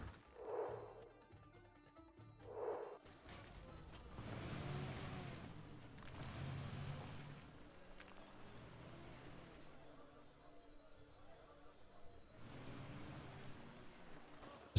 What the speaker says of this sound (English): There's a lot of buggies out now for Excal.